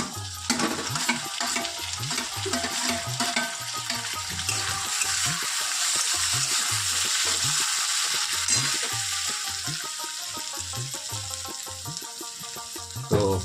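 Onions and tomato fry in a pan for home-made biryani, with a continuous sizzle under repeated rhythmic scraping strokes of a spoon stirring, close and fairly loud, no voices.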